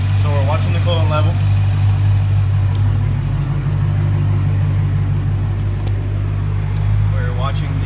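A car engine idles with a steady low rumble during a coolant flush after a Mishimoto aluminum reservoir and 180 thermostat install, with someone talking briefly over it.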